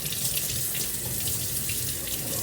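Tap water streams steadily into a sink over a freshly killed female crab being rinsed before cooking, a close, constant hissing splash with no pauses and no voices.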